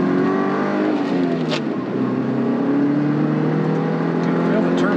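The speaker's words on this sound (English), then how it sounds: "the four-cylinder turbo come to life a little bit." A 1986 Porsche 944 Turbo's 2.5-liter turbocharged four-cylinder pulls steadily under acceleration from inside the cabin, a loud continuous drone rising in pitch, with a voice talking over it.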